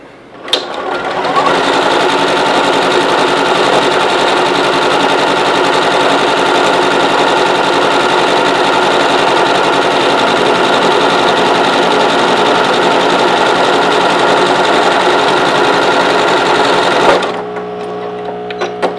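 Sewing machine stitching fabric at a 3.0 stitch width, a steady fast mechanical whir running continuously for about sixteen seconds before stopping abruptly, close and loud with no talking.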